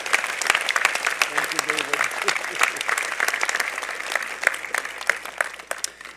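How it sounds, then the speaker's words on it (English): An audience at a university convocation ceremony claps in a dense, sustained round of applause, with a voice speaking briefly over it. "Could I have a round of applause for what he's done for convocation?"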